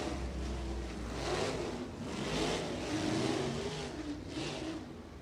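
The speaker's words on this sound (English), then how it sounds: "the Toyota Racing Development Pacer are going to speed away from the field a little bit" A Toyota Racing Development pace car accelerates away from a field of USAC National sprint cars at Macon Speedway, its engine revving in rising and falling surges at a moderate distance, with no voices.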